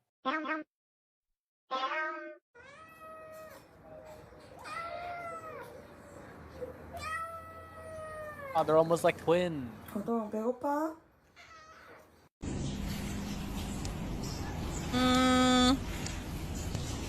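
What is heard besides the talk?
cat meowing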